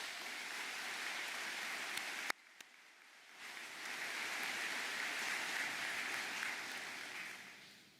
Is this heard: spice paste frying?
no